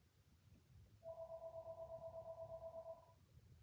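A telephone rings from another room, a faint warbling electronic trill pulsing steadily for about two seconds over quiet room noise.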